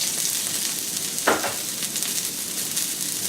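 Ginger and garlic hit hot cooking oil in a wok, giving a steady close sizzle with a sharper crackling burst about a second in, then settling back to an even hiss.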